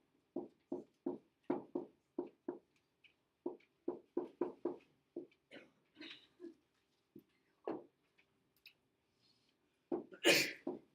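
A single loud, sharp sneeze near the end, in a classroom, following a series of quieter short knocks and taps.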